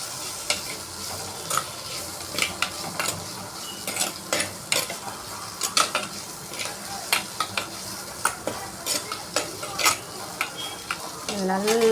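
Tomatoes are stirred and sautéed in a pan for prawn curry, with a constant sizzle of frying broken by frequent sharp scrapes and clinks of a spoon against the pot.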